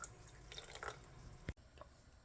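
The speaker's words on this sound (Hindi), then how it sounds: "1/2 कप पानी डाल देंगे।" Half a cup of water poured for a sabudana drink, a soft trickling and dripping stream with faint splashes, fairly quiet, ending with a brief thud.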